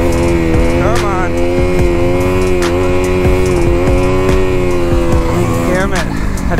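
Dirt bike engine revving high and loud throughout, a steady droning roar with shifting pitch as the throttle rises and falls, recorded close up with no talk.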